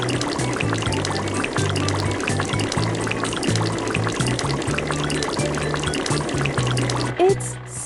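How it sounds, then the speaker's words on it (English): Cartoon water spray rinsing a soapy bus in a children's washing game, a steady continuous pouring hiss under rhythmic upbeat game music, ending with a short splashy flourish. "It's time to rinse off the bus."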